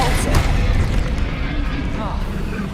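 A Depulso spell cast in the video game Hogwarts Legacy lands as a heavy booming blast, followed by a rumbling tail of noise under a faint voice.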